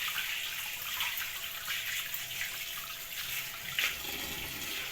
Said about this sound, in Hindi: एक गिलास मैंने इधर स्टील का पानी डाल लिया।